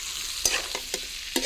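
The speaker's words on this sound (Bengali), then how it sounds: "পেঁয়াজটাকে ভালো করে ভেজে নিই।" Onions sizzle in oil in a pan on a lit stove, broken by a few sharp scraping stirs of a spatula at close range, with no voices.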